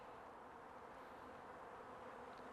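Swarm of honey bees robbing a hive, a dense steady buzz of many wings flying around close by, continuous and fairly quiet throughout.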